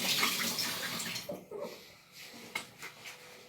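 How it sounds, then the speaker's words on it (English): Tap water runs into a kitchen sink while greasy hands are rinsed after coating a roast chicken traybake, a steady close wash that thins out toward the end, with faint stray sounds. "just let me wash my hands since I'm all greasy now."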